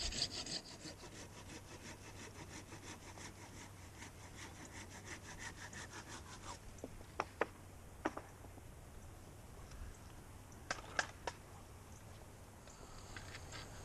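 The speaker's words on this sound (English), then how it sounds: "I'm fine with you one-handing a handsaw." A handsaw cuts through wood with fast, regular rasping strokes for about six seconds, then slows into a few scattered scrapes and knocks, fairly quiet and close.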